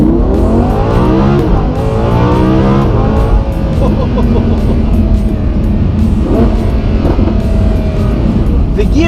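Lamborghini Huracan in Corsa mode on a smooth California road, its engine revving hard and loud with repeated rising pulls broken by sharp, abrupt gear changes.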